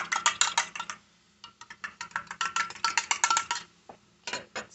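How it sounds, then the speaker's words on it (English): One egg is scrambled with a utensil in a bowl, close up: rapid clinking and tapping in quick bursts, with short pauses between them. "You just want to scramble it a little bit."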